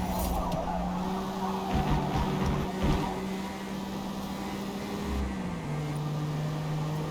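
An Acura NSX race car in an open-class race in Forza Motorsport holds a steady engine drone that shifts pitch as it goes, with bursts of tire squeal and skidding, all continuous and moderately loud.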